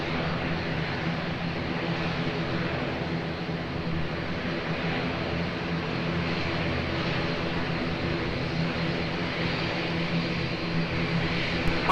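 An airliner takes off at Lisbon Airport, a loud, continuous, broadband engine roar that holds steady throughout with no voices.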